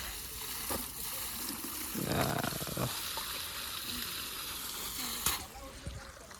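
Water running from a pipe outdoors at a rural home, a steady splashing gush filling the scene with brief louder splashes, as voices talk faintly in the background.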